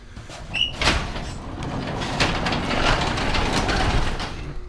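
A garage door in a home garage rolls along its track, a rumbling mechanical slide with a sharp knock near the start, moderately loud and close.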